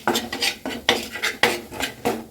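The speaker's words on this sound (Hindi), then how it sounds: "सभी चीज़ों को अच्छी तरह से हमें मिक्स करना है इसी में।" Spices, black pepper and ginger powder are stirred together in a bowl, a rhythmic series of scraping, clinking strokes with a spoon, close and fairly loud.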